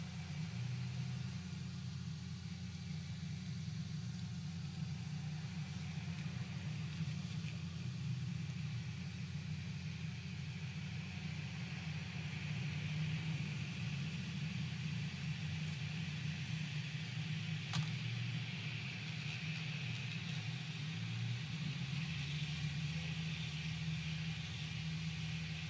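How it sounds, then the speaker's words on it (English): A toy gyroscope spins up on a tabletop, giving a steady, continuous low hum and whir that holds evenly throughout with no voices. "we're going to put the gyroscope on now. Ta-da! Let's spin up the gyro angle."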